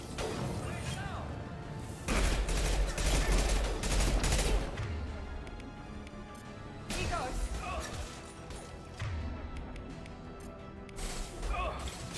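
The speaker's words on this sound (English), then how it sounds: "Taking heavy fire." Heavy gunfire from the Mass Effect 2 video game, dense bursts and crashing impacts in two loud waves with quieter battle noise between them, no talking.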